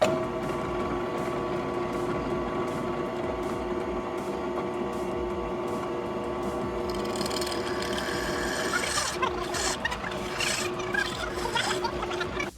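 A drill bores a 9/64 pilot hole for mounting screws while a rail is fitted to a ZPAP rifle, giving a steady close whirring mechanical drone with a rougher grinding burst near the end.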